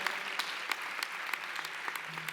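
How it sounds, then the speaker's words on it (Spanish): Audience applause rises during a 40th anniversary speech at a CJC event, with steady clapping from a moderate crowd and distinct individual claps popping out sharply at fairly regular intervals, heard alone without talk. "para ti este aplauso"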